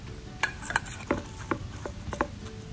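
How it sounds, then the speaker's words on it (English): Capers and a pepper medley are stirred into a dish, with a utensil scraping and clinking softly against the bowl in about seven irregular strokes, close and quiet. "Give it a stir."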